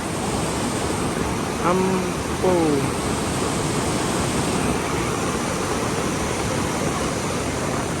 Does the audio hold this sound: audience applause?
no